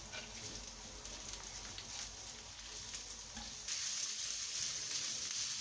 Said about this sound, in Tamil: வெங்காயமாக லேசாக வதங்க ஆரம்பிக்குது.